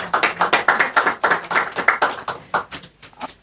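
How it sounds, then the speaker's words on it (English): An audience claps in a brisk, rhythmic beat at a Kenyan health-care status report meeting, fairly loud and close, gradually thinning out and slowing toward the end. "Let's keep clapping, please."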